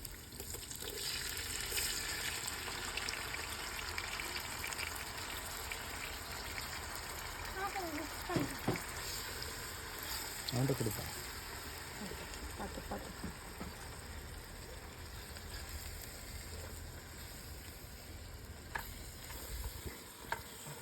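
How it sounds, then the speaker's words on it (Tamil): Tomatoes frying in a large pot for an outdoor backyard biryani, a steady loud sizzle running throughout with occasional stirring scrapes, and people talking over it. "அது இப்போ தக்காளி போட போறோம்"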